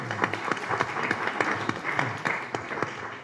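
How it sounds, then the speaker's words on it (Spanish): An audience at a law conference in Peru on international child abduction applauds to welcome a speaker. The clapping is steady and continuous, from a moderately sized crowd. "Lo recibimos con un fuerte aplauso."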